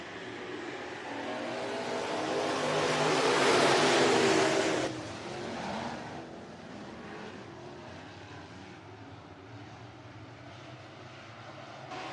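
Bomber and modified race cars at Worthington Speedway, their engines swelling to a loud roar as the pack passes, then dropping away to a steady, more distant drone as the field circles the track.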